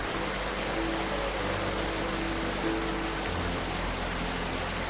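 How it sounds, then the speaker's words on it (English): Loud, steady rain sound effect from the indie video game Rainswept, a dense, unbroken hiss of falling rain with a faint low hum underneath. "Oh my god, that rain is loud"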